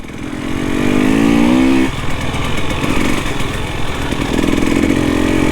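Husqvarna TPI enduro motorcycle engine running outdoors, loud and close, a steady buzzing two-stroke drone with a rising rev early on, then rough uneven idling and blipping, no talking.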